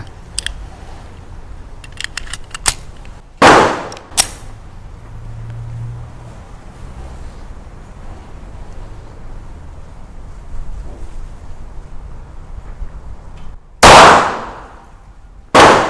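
A pistol fires sharp, loud shots at a target range: two reports about ten seconds apart and a third at the very end, with light clicks and handling noise in between.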